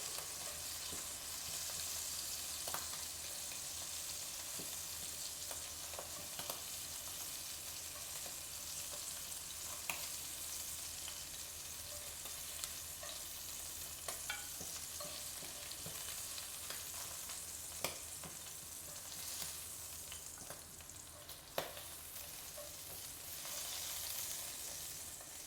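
Scallops pan searing in a hot pan give off a steady, even sizzle that runs throughout, with occasional small pops and crackles above it.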